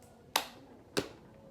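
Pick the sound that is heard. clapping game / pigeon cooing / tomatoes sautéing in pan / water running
clapping game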